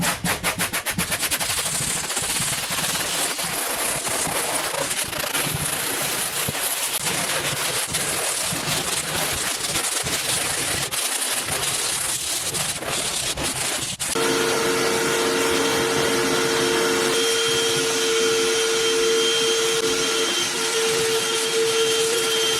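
A wire brush scrubs old crumbling foam off a Chevrolet Silverado truck headliner in rapid, loud, rasping strokes, giving way near the end to a steadier whirring scrub with a tonal hum.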